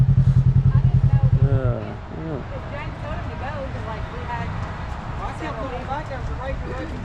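Can-Am off-road vehicle climbing a trail hill, a throbbing engine pulse close by at first, then a lower rumbling idle, with someone talking over it for most of the time.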